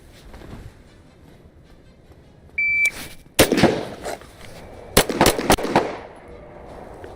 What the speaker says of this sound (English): On signal, I'm gonna come up, fire one to the blue, transition, 3 to the white with pistol.